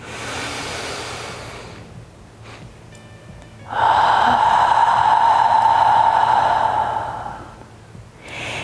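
Breathing exercise done up close: a couple of short sharp inhales through the nose, a pause, then one long, loud, sustained exhale lasting several seconds before tailing off, followed by another quick intake of breath.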